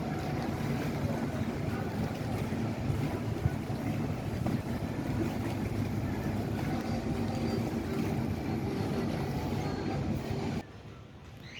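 Boats circle on Venice's Grand Canal, a steady engine drone with wind and lapping water running unbroken, then dropping sharply to a quieter hush near the end.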